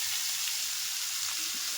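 Vegetables frying in a pan give a loud, close, continuous hiss and sizzle that stays steady through the whole short stretch.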